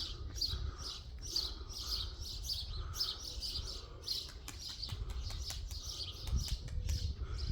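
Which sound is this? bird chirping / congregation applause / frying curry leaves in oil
bird chirping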